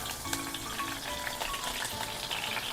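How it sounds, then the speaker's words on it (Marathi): Curry leaves hit hot oil in a wok for a Malvani crab curry, giving a faint, continuous crackling sizzle with small pops, heard alone. "कढईत आता तेल तापलं आहे. त्याच्यामध्ये कढीपत्ता,"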